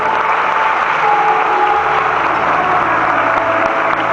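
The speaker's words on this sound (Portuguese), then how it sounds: "E eu queria que você desse uma salva de palmas para todas as pessoas que serão batizadas" A congregation applauds people about to be baptized, a loud, dense and continuous wash of clapping filling the whole stretch without pause.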